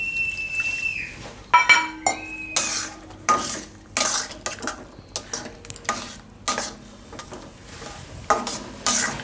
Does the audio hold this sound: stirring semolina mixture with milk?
yes